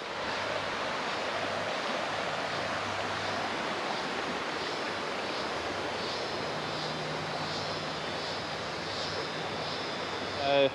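River water flowing beside a campsite on Moreton Island, a steady broadband rushing wash that runs unbroken and fairly loud throughout, with no talk over it.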